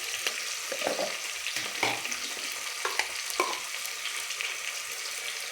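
Tomato bath with field beans cooking: ingredients frying in a pan with a steady sizzle, broken by intermittent clinks and scrapes of stirring, close and moderately quiet with no talking.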